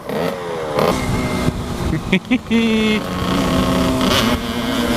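A KTM RC125 motorcycle being ridden, a loud, close engine drone rising and falling in pitch with shifts, steady throughout with a couple of brief dips.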